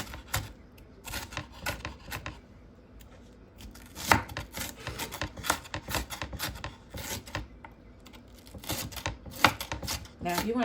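A kitchen knife chops potatoes on a cutting board for Southern breakfast potatoes, a run of quick, uneven rasping strokes, close and fairly quiet, with short pauses between bursts.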